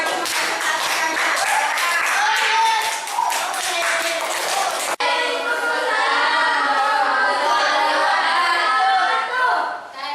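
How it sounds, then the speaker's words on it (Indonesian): Classroom of students clapping for the first group about to present, a dense patter of hand claps through the first half, then lively chatter and voices filling the room after a sharp break. "sekarang kita tepuk tangan untuk kelompok pertama"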